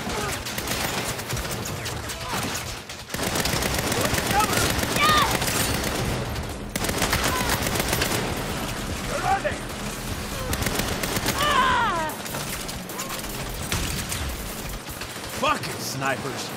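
Gunfire from a sniper ambush on an upper floor in the Saints Row video game: sustained, loud bursts of rapid shots and volleys that continue across the whole stretch, broken by short pauses, with game voices talking over the shooting.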